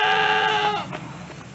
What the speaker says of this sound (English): We're here at the nanny goat pasture that I got them in.